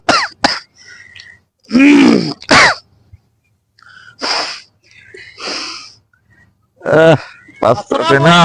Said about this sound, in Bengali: আরে এত কাশতেছেন